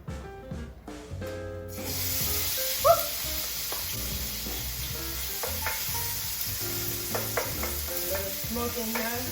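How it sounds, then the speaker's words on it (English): Small cubes of tofu fry lightly in oil in a pan for a spicy Korean chicken dish, with a soft hissing sizzle that starts after a couple of seconds of clatter and runs steadily with scattered pops and light utensil taps. "So I'm just gonna slice it up like this, maybe in little cubes. Then we're going to put it on top. I'm just gonna fry it in very lightly."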